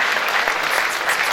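Audience at a Congolese political gathering giving the minister a standing ovation, with dense, continuous applause from many hands, loud and steady throughout.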